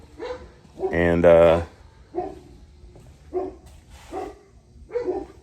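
Dogs bark in several short bursts, one louder harmonic bark followed by quieter barks spread across the moment, with someone talking in between.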